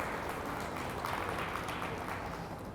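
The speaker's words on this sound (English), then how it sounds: "Let's give them a round of applause." An audience at a talk on horse feeding gives a round of applause, heard as a faint, steady wash of clapping from a distance.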